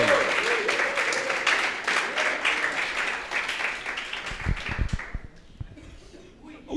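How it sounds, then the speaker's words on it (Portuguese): A church congregation applauds during a Bible study sermon, a full sustained round of clapping that gradually thins out and dies away toward the end, with scattered thumps and a voice afterward. "Só quem recebe, aplaude ao Senhor."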